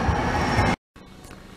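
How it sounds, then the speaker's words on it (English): Train rolling past at a Target store, a loud dense rumble that cuts out abruptly for a moment, then returns more faintly. "Train."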